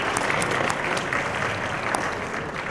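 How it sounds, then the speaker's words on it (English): A press-meet crowd at the Da Bangg Tour 2018 event in Pune gives a dense, loud round of applause, continuous and even throughout with scattered sharper claps. "Can you please have a huge round of applause once again?"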